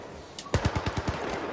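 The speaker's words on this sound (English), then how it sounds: "Can't see, just shooting." Rapid automatic gunfire from Battlefield 3 campaign combat: about eight sharp, evenly spaced shots fired in one quick burst, loud and close, with no voices over them.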